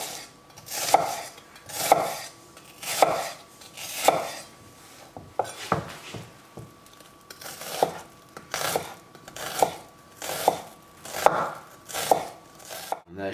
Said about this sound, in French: On va maintenant aussi hacher l'oignon et l'échalote. On va hacher très finement